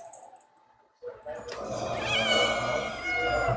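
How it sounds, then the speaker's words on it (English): A cat meows, a drawn-out mewing cry that rises after a quiet start and stays fairly close and loud, with a voice talking around it. "Kitty."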